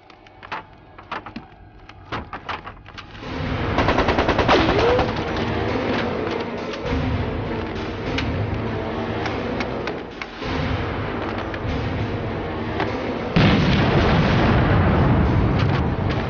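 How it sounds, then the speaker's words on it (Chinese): Gunfire and explosions from a Chinese wartime spy drama: scattered sharp shots at first, then dense, sustained booming bursts that stay loud throughout, with a heavy surge near the end. "江南路方向传来激烈的枪声。"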